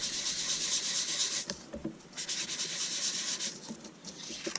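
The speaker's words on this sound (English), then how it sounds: "I'm going to come in with my sponge And I'm just going to go over this." Sponge dabbed and rubbed across a card, spreading ink from a stamp pad over heat-embossed cardstock, a close, steady scratchy swishing in several strokes with brief pauses between them.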